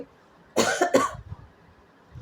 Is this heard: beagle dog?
no